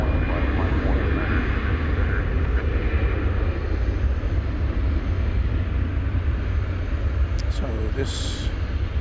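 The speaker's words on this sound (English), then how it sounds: "21st century MD-11 vectors off for its flight to Louisville, the UPS World Port." An MD-11 cargo jet climbs away from DFW Airport at night, bound for Louisville. Its engines make a loud, continuous roar with a whining tone for the whole stretch, while a voice speaks over the noise.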